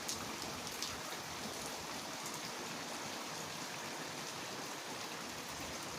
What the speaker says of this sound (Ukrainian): злива капітальна